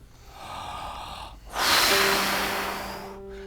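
A conductor takes a sharp, audible inhalation, imitating clarinet players breathing in before a downbeat in Tchaikovsky's Fifth Symphony. The breath is close and loud, preceded by a softer breath.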